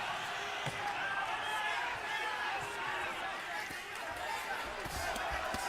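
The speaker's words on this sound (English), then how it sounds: "Pro-Chavez crowd trying to urge him on for more." Pro-Chavez boxing arena crowd at Julio Cesar Chavez Jr. versus Sebastian Zbik, a steady roar of cheering and shouting from a large audience, with a commentator talking over it throughout.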